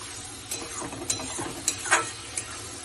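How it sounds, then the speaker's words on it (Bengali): Masala for curd rui fish kalia is sautéed and stirred in a pan, giving a quiet sizzle with a few sharp spatula clinks and scrapes scattered over a short stretch. "মিশিয়ে কিছুক্ষণ কষিয়ে নেব"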